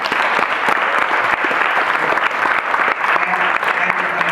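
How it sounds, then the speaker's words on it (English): An audience at a 2014 comedy roast applauds the comedians, a dense, loud, continuous wash of clapping that holds steady throughout, close and enveloping. "I think our comedians, of course, need another round of applause"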